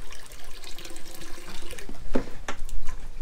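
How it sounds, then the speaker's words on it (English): Salt water trickles and splashes from a hose into the live well of a bait boat, a steady close watery patter with a few brighter drips standing out. "salt water dripping out, but fresh salt water."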